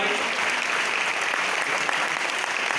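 Dense, loud audience applause at an event, many hands clapping continuously and evenly throughout without a break.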